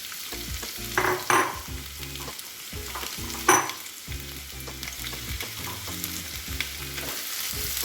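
Sliced onions hit hot oil with cloves and star anise, giving a loud close sizzle that keeps hissing and crackling, with two sharp spattering bursts as they are stirred; no talking.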